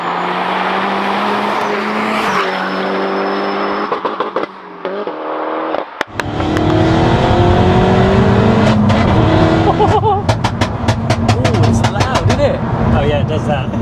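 A Stage 2 Peugeot 308 GTI idles with a steady hum, then fires into loud revving and driving, with rising engine pulls and sharp pops under occasional talk inside the car.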